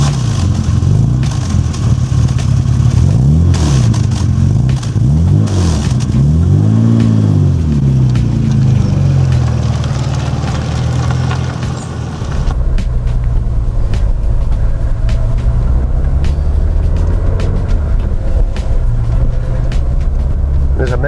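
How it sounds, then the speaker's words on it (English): A 1966 Aston Martin DB6 Vantage on a test drive, its engine note loud and steady throughout, swelling and rising in pitch as the car accelerates, with a voice talking over it. "we're going to take the car for a quick test drive now"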